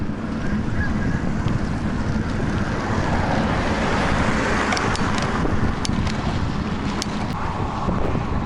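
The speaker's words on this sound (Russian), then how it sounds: "Ветер не дает разогнаться вообще." Loud, constant headwind roaring and buffeting against the microphone of a moving bicycle, a dense rushing noise with no voices.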